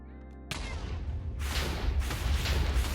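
A boss in modded Minecraft sets off an explosion: a sudden loud boom cuts in, then a dense, rumbling roar of blasts that swells and stays heavy to the end, with no voices.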